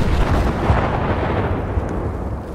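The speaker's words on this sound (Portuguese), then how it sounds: "tenham calma com as explosões" Explosions in Battlefield 5 during a control-point capture roll one after another in a heavy, booming, rumbling barrage. The blasts are loud and close, with thudding low impacts layered over continuous debris noise and no talking.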